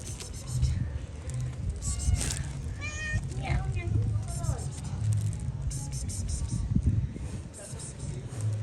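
A cat meows in a busy street setting in Pereira, Colombia, with several short rising and falling calls scattered over steady traffic and crowd noise while people talk nearby.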